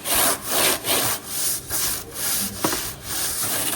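Rhythmic back-and-forth scrubbing with a stiff brush while cleaning an air cooler, steady strokes repeating about twice a second, close and loud with no talking.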